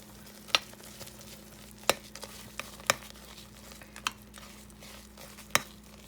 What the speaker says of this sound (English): we're just going to go ahead and stir that in